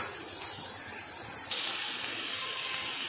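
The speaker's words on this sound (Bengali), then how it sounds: "আমি মিনিট 3 ধরে এইভাবেই হাই ফ্লেমে আমি এটাকে ভেজে নেব" Masala frying on high flame for a prawn malai curry, a bright steady hiss that surges louder halfway through and holds, close and alone.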